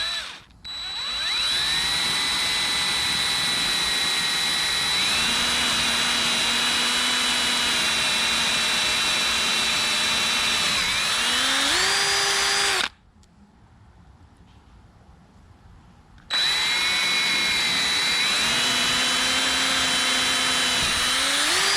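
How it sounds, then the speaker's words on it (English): An electric drill with a 5/16 bit bores holes while a storm door is installed on a greenhouse, whining loudly and steadily in two long runs with pitch shifts, broken by a short pause. "So I'll go get my drill and we'll drill those out."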